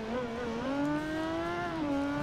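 A Yamaha R6 motorcycle races in the Ride 2 game, its engine holding a steady high whine that rises slightly and then shifts down, loud and continuous with no voices.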